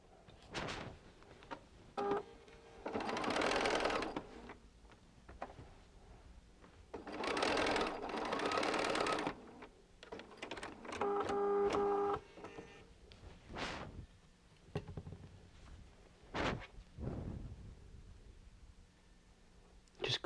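Sewing machine stitching quilt block seams for a poinsettia quilt, running in several separate bursts of a few seconds each with quiet pauses and scattered handling clicks between them.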